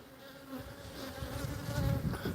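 Honey bees crowd on a hive box, a close buzzing drone that stays steady and swells slightly louder toward the end, with no voices.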